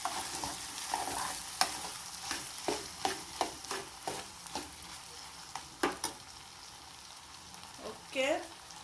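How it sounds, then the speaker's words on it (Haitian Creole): Haitian epis spice base sizzles and fries in a pot, with a steady hiss broken by repeated sharp clicks and scrapes of stirring, close and fairly quiet, ending in a short squeak. "Epis la fri la dan la."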